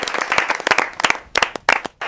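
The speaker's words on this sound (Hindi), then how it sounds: "शॉप मालिक जोर से ताली बजा रहा था" A shop owner applauds loudly in an animated story, with quick, uneven bursts of hand clapping that are close and loud, broken by brief pauses.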